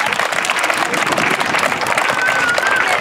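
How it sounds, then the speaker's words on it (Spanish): Crowd applause at an outdoor Día de Reyes community event in Loma Bonita, a dense sustained clapping with a faint background of voices and a brief high whistle-like tone near the end. "también les pido un fuerte aplauso"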